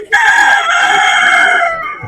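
A rooster at the Sabunchu poultry market gives one loud, close crow lasting nearly two seconds, a strained held call that fades out abruptly with little else around it.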